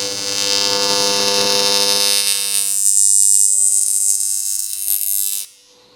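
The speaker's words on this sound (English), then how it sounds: "I think this is actually gonna weld together okay." Cast aluminum being arc welded outdoors, a steady loud buzzing crackle with dense high hiss that runs continuously for about five seconds before cutting off abruptly into near silence.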